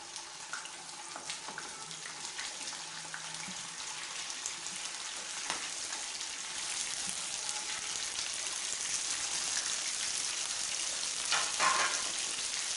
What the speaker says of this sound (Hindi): लहसुन अदरक का पेस्ट भुन चुका है तो अभी इसके ऊपर हमने डालनी है कलेजी